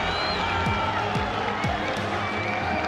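Home crowd of Falcons fans roars at an esports arena in Riyadh during a Call of Duty match, a dense, steady wall of cheering and noise that fills the whole moment without letup.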